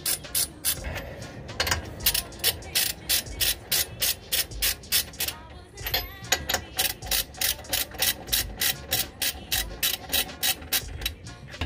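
A ratchet tightening wheel adapter bolts on a Porsche 987, loud close rapid clicking in a steady rhythm with a brief pause midway, no talk.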